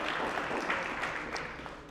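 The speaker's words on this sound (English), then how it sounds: "give yourself a round of applause" Participants at a Llama hackathon kick-off give a steady, moderately quiet round of applause, a continuous wash of clapping from a room of attendees.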